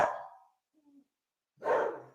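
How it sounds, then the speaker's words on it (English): Dogs bark in two separate bursts, a loud close volley at the start and another after a short pause, with a faint whimper-like sound in the quiet gap between them. "God knows what they're all barking about."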